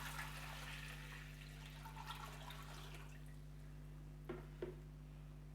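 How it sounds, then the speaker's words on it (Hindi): Water pours steadily into a metal pressure cooker for a few seconds over a low electrical hum, followed by two faint clinks near the end. "मैं इसमें तकरीबन 2 किलो पानी डाल दूँगी"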